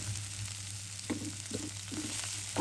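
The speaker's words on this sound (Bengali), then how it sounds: "পাতাটা দিয়ে দিলাম হালকা ভেজে নেব পেঁয়াজের সাথে" Leaves frying lightly with onion in oil make a faint, steady sizzle. A few soft scrapes and stirring sounds come near the end, and nobody talks.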